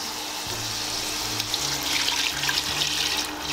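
Chicken broth is poured into a soup pot, making a close, continuous liquid rush with low gurgling tones underneath and no speech.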